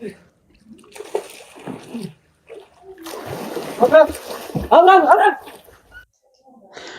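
A person falling into water during a prank, with a couple of loud splashes and sloshing amid excited voices and talking around it.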